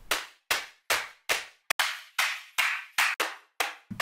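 Sampled electronic claps in an Ableton session for a melodic riddim and color bass track, a string of sharp, dry single hits about every half second, each fading quickly, loud and alone.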